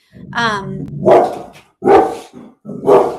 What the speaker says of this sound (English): the dogs are going to bark, sorry.